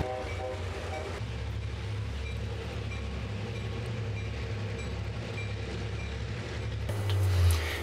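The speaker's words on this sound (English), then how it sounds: "They are two Pennsylvania Railroad restored locomotives from 1950 that will head up the Amtrak train" Amtrak passenger train headed by two restored 1950 Pennsylvania Railroad locomotives, a steady low rumble of rolling stock and engines close by, swelling louder near the end, with no talk.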